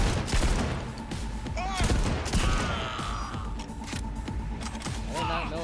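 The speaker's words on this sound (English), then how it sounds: "Oh, it's a shotgun." A shotgun fires in the video game Cyberpunk 2077, with several loud blasts amid chaotic combat sounds and a speaking voice over it.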